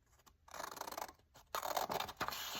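Scissors snipping through paper while trimming a page for a no-sew junk journal, a few close crisp cutting strokes in two bursts with a short pause between them.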